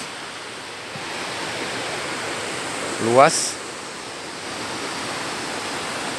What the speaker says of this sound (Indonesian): dan tentunya menghadirkan air terjun yang cantik